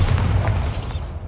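A Bombarda blast spell goes off in the Hogwarts Legacy video game as a deep, sustained boom with a dense low rumble that fades slowly, with no talking.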